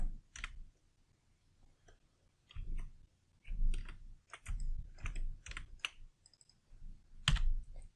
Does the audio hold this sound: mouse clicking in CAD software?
yes